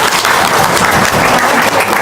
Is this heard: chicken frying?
no